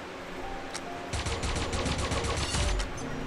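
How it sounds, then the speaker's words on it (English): Rapid automatic rifle fire in the Pixel Gun 3D video game: a brief early shot, then a dense burst of quick, close, loud shots, with no talk. "That's the fucking rifle."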